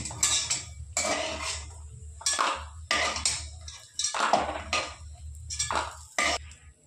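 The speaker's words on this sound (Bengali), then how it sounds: "এবার বড়িগুলো আমি তুলে নেব" Fried lentil dumplings lifted out of a pan of hot oil, with a run of close metallic scrapes and clinks of a utensil against the pan coming in repeated bursts, with no talking.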